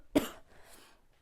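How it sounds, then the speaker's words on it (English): A single short, sharp cough near the start, fairly close, followed by a faint trailing breath and quiet. "Excuse me, I'm going to cough."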